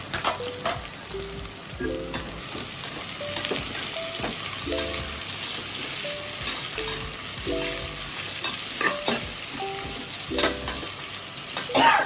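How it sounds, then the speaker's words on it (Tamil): Onions being stirred and sautéed in a pan for chicken biryani: a continuous sizzle broken by repeated scraping and clanking strokes of a utensil against the pan, close and moderately loud, with no voices. "இந்த மாதிரி நல்லா வதக்கணும். நல்லா பொன்னேரமா."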